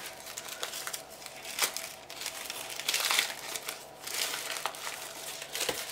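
Tissue paper crinkling and rustling as it is carefully folded out to make a paper flower, close and continuous with soft crackly bursts, no voice.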